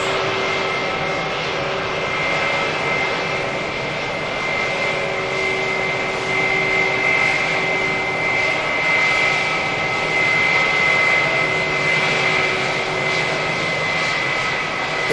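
Airliner jet engines roar steadily at Manchester Airport, a continuous broadband rumble with a whining tonal hum running throughout, loud and close without pause.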